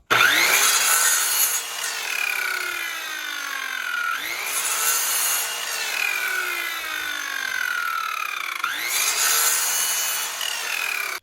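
Cedar lathing strips for shutters being cut with a power saw: three long cutting passes, each starting with a sharp bite and a falling, droning pitch, close and loud with brief pauses between.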